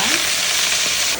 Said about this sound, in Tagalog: Ayan mga ka-wonder, ilalagay na natin tong sitaw.